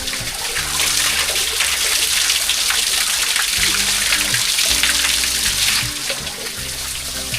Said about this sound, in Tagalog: Tingnan niyo yung tubig dito, free flowing.